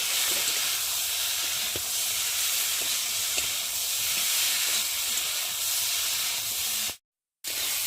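Spiced fried cauliflower florets and peas being sautéed in a pan with masala give off a steady, close sizzling hiss, broken by a few faint stirring clicks, then cut short by a sudden drop to silence near the end.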